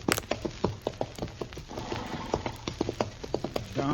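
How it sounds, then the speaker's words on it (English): Horse hooves clip-clop in a quick, steady rhythm of sharp knocks, close and distinct, as a radio drama sound effect from a 1952 Western broadcast, with no speech over them. "Darn horse."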